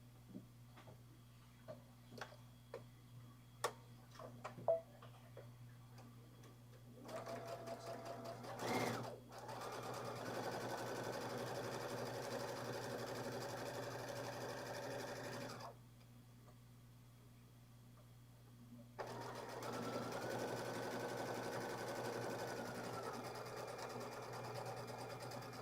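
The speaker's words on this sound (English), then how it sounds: "we will go ahead and just sew this together" A Baby Lock sewing machine stitches a quilted table runner at a 2.0 stitch length, with a few faint ticks first and then two long, steady whirring runs separated by a short pause.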